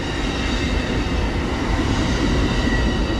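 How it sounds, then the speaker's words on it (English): The southbound Amtrak Auto Train passes Palatka train station, rumbling loudly and steadily, with rolling wheel noise and faint metallic squeal, close by and continuous with no voices. "Amtrak auto train."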